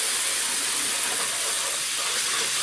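Cream being poured into a frying pan of toasted flour and gently stirred, a steady broadband sizzling hiss that holds evenly throughout, close and fairly loud with no voices.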